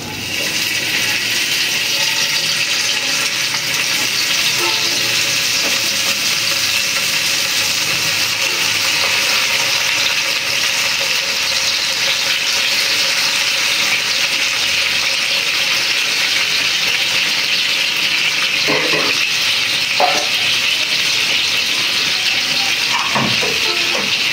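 Food hisses and sizzles in hot oil as pieces go in one at a time, making a loud, steady frying wash that runs throughout, with a few soft clinks near the end and no talking.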